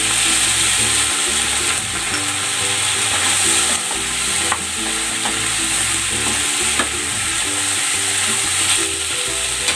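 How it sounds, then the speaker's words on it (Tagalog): Cooking wine poured over pork ribs sizzling in a hot pan, with steady loud frying and scraping stir strokes in an irregular rhythm, no talk. "Ilalagay ako ng cooking wine."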